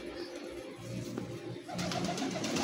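Teddy pigeon chicks kept for sale in Lahore coo in soft, low, repeated calls close up, rising slightly louder toward the end over a faint background hum.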